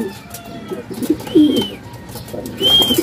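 Pigeons coo softly in low, rounded calls, with a couple of brief higher chirps mixed in; close and clear against a light background hiss.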